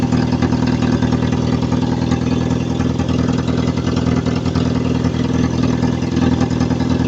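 A Land Rover engine idles steadily and loudly with a rough, puffing exhaust note from a leaking, crusty exhaust, running alone without variation.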